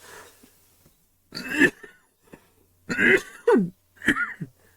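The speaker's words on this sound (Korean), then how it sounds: "갑자기 이제 진행하려니까 기침이 많이 또 시작하네." Several harsh coughs and throat clearing come close up in short bursts, separated by quiet pauses.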